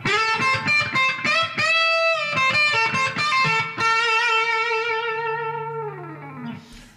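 An electric guitar through a Disto Jimini distortion pedal plays a driving riff with a distorted, saturated tone, chords ringing and then sustaining into a long fading note.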